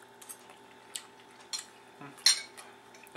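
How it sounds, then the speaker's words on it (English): Metal cutlery clinks and scrapes against a plate while cutting into a piece of homemade mushroom and spinach ravioli, a series of light, sparse, close taps and chinks with quiet pauses between them. "Trying a piece of my ravioli now."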